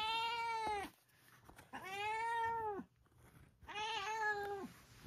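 Cats meowing outdoors, three long drawn-out harmonic meows spaced a few seconds apart, loud and close with quiet gaps between them.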